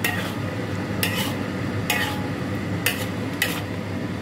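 A spoon stirs ginisang munggo (mung bean stew) in a cooking pot with a low simmering hiss underneath, giving four or five brief scraping clinks at a loose, uneven pace and no voices.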